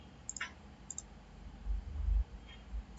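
A handful of faint, crisp mouse clicks spaced across a quiet stretch while working through the Data Transfer Workbench in SAP Business One, with a soft low rumble in the background.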